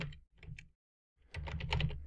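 Computer keyboard typing while entering a command to start an Apache 2 web server: two quick bursts of soft key taps, a short pause, then a denser run of clicks, close and quiet.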